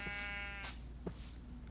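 A goat in the Minecraft video game bleats once, a short buzzy tonal call at moderate level, followed by a couple of brief soft game sounds over a steady low background hum.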